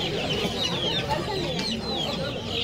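Chinese-breed chickens cluck and squawk steadily at a poultry market in Kolkata, a dense overlapping chorus of close, fairly loud calls with no one speaking over it.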